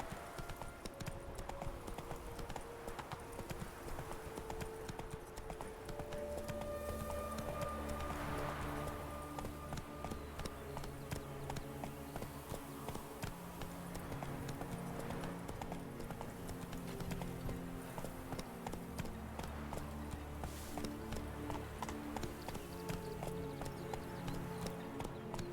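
Horse galloping in The Witcher 3 over a musical score, rapid hoofbeats pounding steadily and close throughout, a whinny rising at one point, no talk.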